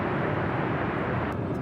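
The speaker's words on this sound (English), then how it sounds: "that is Delta Airlines Flight 750 on this A320" A Delta Airlines Airbus A320, formerly flown by Northwest, arriving at LAX from Austin gives a steady broadband engine roar, distant and even throughout the short stretch, with no voices.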